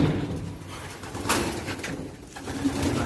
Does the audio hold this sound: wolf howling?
no